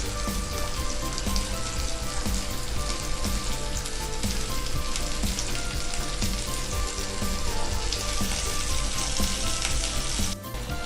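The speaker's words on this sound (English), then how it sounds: "Fry for 1 minute on medium flame." A chicken quesadilla fries in olive oil over a medium flame, giving a loud, steady sizzle that stays dense throughout and briefly dips near the end.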